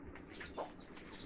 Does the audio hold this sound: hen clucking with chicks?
yes